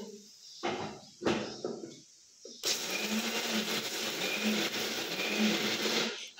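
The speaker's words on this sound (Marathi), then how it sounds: "मिक्सरवरती बारीक करून घेऊ." A few short bursts of a motor, then a loud, steady whirring grind of a kitchen mixer running continuously to the end.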